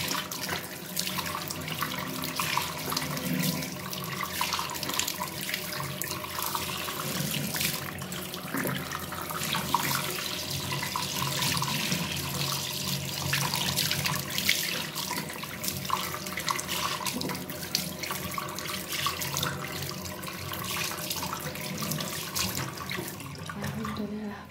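A tap runs steadily beside a sink throughout, a continuous broadband water rush of even loudness, with light splashing as a face is rinsed after a coffee scrub during a night skincare routine.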